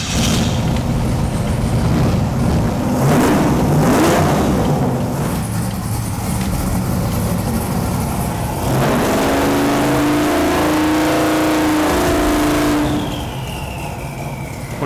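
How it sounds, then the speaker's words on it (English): Turbo drag car engine held on the 2-step, a loud, crackling, stuttering rev that holds for several seconds, rises into a strained steady tone, then drops to a lower rumble with a faint turbo whine. "Gonna put it up on the 2-step, see what kind of boost it makes"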